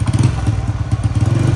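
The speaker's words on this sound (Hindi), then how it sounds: "हमारी बाइक को पता नहीं क्या हुआ है, मिसिंग कर रही है" A touring motorcycle with a misfiring engine idles close by with an uneven, stuttering thump, the pulses irregular and lumpy over a brief stretch, with no talking.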